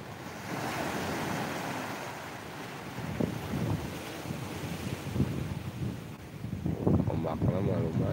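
Surf breaking at Pangandaran beach toward evening, a rushing wash of waves with heavy wind noise on the microphone, while people talk nearby over the roar of the water.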